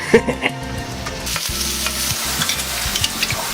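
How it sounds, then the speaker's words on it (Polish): Forest mushrooms sizzle and crackle in a hot pan while being stirred, with scraping utensil sounds over a steady frying hiss, close up. "Spierdalamy teraz wszystkie na patelnię i niech się tutaj duszą."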